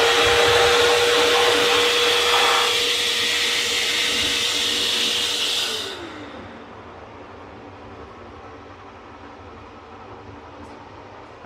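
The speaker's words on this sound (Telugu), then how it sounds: "Hand free hair dryer." A hands-free hair dryer in a Vande Bharat Express train washroom blows with a loud steady whooshing roar and faint whine, then cuts off partway through, leaving a quieter rumble of the moving train.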